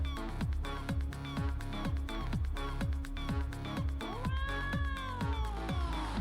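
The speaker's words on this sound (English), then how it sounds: "And we hear the kitty. Meow." A cat meows over a steady, rhythmic musical beat, its drawn-out call rising and falling near the middle.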